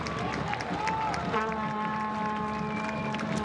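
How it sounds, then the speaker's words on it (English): A stadium crowd at a Charleston Battery versus Loudoun United FC football match applauds steadily for a departing player, a continuous broad wash of clapping under a commentator's voice, with a whistle sounding partway through. "Again, another round of applause for number 6, Dante Polvara."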